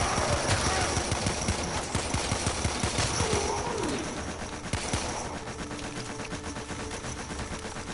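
Rifle fire against Grineer troops in Warframe, a steady stream of close, rapid shots with scattered impacts over loud game ambience.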